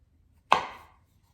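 A single sharp knife chop as a kitchen knife cuts a large mushroom in half on a board for pickling, crisp and close, followed by quiet.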